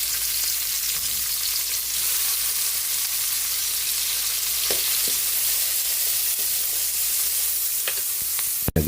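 Onion, garlic and tomato sautéing in a hot pan: a loud, dense, continuous sizzle close up, with a few faint stirring taps and a sharp clatter right at the end, no one speaking.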